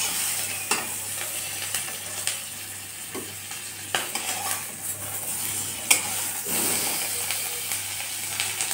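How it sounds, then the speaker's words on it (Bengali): Shrimp fry in a hot pan with a continuous crackling sizzle, broken by frequent utensil scrapes and metallic taps from stirring, close by and with no talking. "এখন আমি চিংড়ি মাছটা ভেজে নিব"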